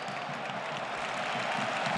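A stadium crowd in Seville at the 2025 Copa del Rey final between FC Barcelona and Real Madrid gives steady, distant applause, a broad wash of clapping and murmur over the whole stretch.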